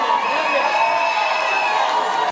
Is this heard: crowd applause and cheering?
yes